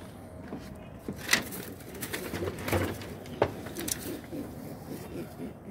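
Domestic pigeons cooing softly in a loft, low soft coos repeating under faint background noise and occasional distant voices.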